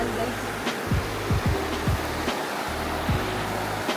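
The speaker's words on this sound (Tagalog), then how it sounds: "may tubig" Steady rushing water in a river at Tanay, loud and continuous with a broad noisy wash, while a few low bumps and knocks sound close by.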